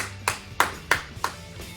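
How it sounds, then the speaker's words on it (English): Four or five slow, evenly spaced claps from a single person after a kickboxing drill, sharp and close with ringing edges, fading toward the end with no talk. "Give yourself a big round of applause"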